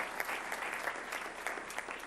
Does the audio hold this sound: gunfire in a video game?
no